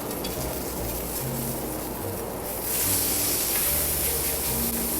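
Steak sizzling on a grill just after being flipped, a continuous loud hiss close up that swells brighter and louder partway through, with no voices.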